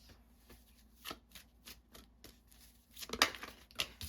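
Tarot cards being shuffled by hand, a rapid series of soft papery riffles and taps, close and fairly quiet, with a sharper flurry near the end.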